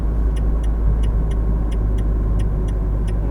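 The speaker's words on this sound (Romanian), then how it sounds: "Mai este o mașină" A car drives along a road in a steady, close engine and tyre rumble, with a faint regular ticking above it and no voices.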